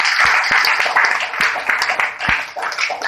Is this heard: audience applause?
yes